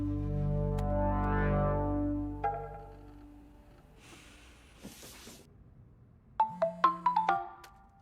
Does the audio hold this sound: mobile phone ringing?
yes